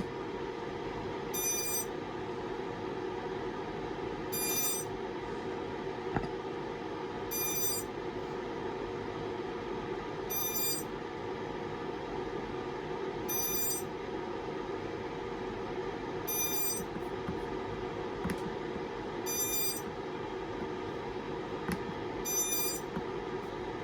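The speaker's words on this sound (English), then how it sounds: "It seems to beep after a certain amount of seconds." Short electronic beep bursts from a radio controller repeat at regular intervals of about three seconds over a constant low hum.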